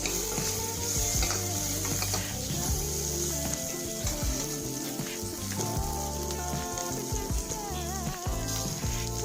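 A spoon stirs a mixture frying in a pan for a quick evening snack, with a constant loud sizzle under repeated scraping and clinking strokes close by.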